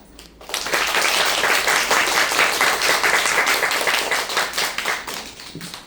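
Audience applause after a theater play's final performance, starting abruptly after a brief quiet moment and holding as dense, even clapping before tapering slightly near the end.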